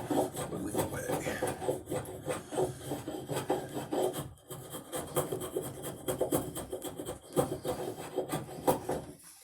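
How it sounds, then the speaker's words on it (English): Dense, continuous scraping and rasping of a blade carving into wood, with quick repeated strokes in a steady rhythm, close and fairly loud, pausing briefly midway before resuming. "Just kind of getting in there, whittling away"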